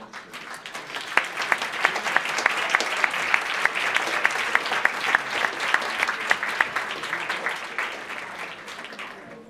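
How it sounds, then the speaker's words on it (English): Audience applause for an orchestra at a live event, steady dense clapping filling the room for the full length, close and loud with sharp individual claps standing out. "So if I can have a round of applause for the orchestra."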